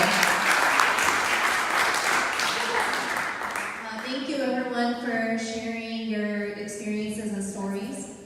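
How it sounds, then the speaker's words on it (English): Loud, dense audience applause for the panelists at a panel on rehabilitation instead of incarceration fills the first half, then fades beneath a speaker's voice that continues to the end. "Could we give another round of applause to the panelists?"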